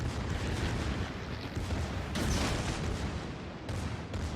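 Secondary batteries on a warship in World of Warships, the German battleship Preussen brawling at close range, fire in a dense, continuous barrage of booming reports with no gaps and no talking.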